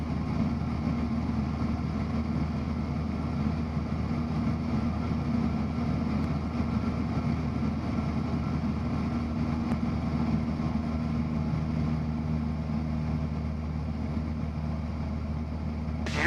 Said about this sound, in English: Hear the change in the pitch of the engine?